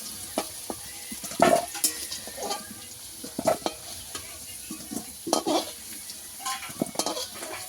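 Potatoes frying in oil in a pan, with repeated stirring scrapes and clinks of a utensil over a low continuous sizzle, close and fairly quiet.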